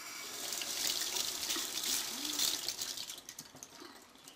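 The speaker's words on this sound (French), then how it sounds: "ici c'est important de bien les égoutter. En fait, je vais même les rincer un petit peu." Tap water runs and splashes over canned snails in a sink for a few seconds, loud at first, then thinning into lighter trickles.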